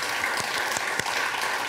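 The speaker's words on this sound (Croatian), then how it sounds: "dobar ste aplauz dobili i vi" Sustained applause from a TV talk-show studio audience, a dense, even roar of many hands with a few louder claps standing out, with no talk over it.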